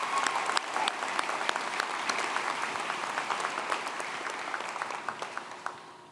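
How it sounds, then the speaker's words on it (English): Audience applause for the band at a high school graduation ceremony, a dense, sustained clapping from a large crowd in a hall, close and loud, gradually thinning toward the end. "Could we first have a round of applause for our band and Mr. Crawl in the back for fantastic music as we entered?"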